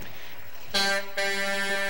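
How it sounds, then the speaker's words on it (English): A loud truck horn blasts twice in quick succession, the second blare held longer, with steady background noise and no talking, at an outdoor Christmas parade. "Honk that horn."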